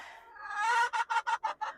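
Backyard chickens cluck nearby: a drawn-out rising call, then a quick rhythmic series of about six clear clucks, heard alone.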